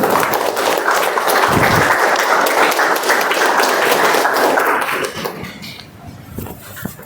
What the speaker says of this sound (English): Can we have a round of applause for Toastmaster Raj?